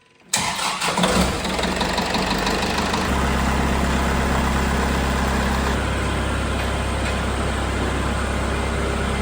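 A Kubota MX5800 tractor engine cranks and catches almost at once, then settles into a loud, steady diesel idle that drops slightly in pitch a few seconds later.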